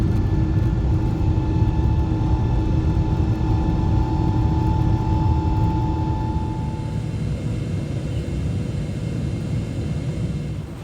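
Steady airliner cabin drone on a 15-hour flight, a constant low roar with faint humming tones that eases slightly in level partway through, no talking.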